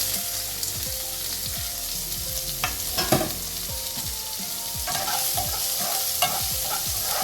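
Sliced onions for a brinjal and onion curry sizzle and fry in a pan, with a spoon scraping and stirring in repeated strokes close by, the hiss steady beneath the clatter.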